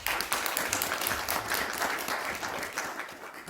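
An audience at a discussion forum applauds, a dense, steady patter of clapping hands lasting a few seconds without pause.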